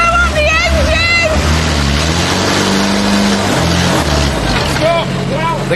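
Engine of a home-built muncher demolition machine running at full tilt, a loud, constant, rumbling drone throughout, under shouting voices.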